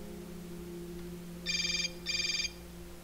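A cell phone in Hotline Miami 2 rings twice in short buzzing electronic trills over a steady low drone, with nobody talking.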